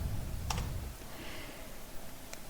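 Keys tapping on a computer keyboard while entering an Excel formula, soft quiet clicks with a couple of sharper key strikes, one likely the Enter key, over low background noise.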